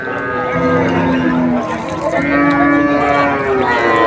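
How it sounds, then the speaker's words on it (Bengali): Cows and dairy cattle moo repeatedly at a busy rural cattle market in Manikganj, Bangladesh, with several long, loud calls overlapping amid continuous crowd chatter and nearby talk. "গাবি গরু আছে এখানে"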